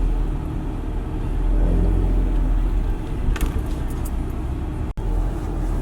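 A car drives along, a steady low engine and road rumble filling the background with a brief rise in the middle and a short click near the end, no voices.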